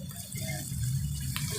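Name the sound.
pouring a little water into ground pork and potatoes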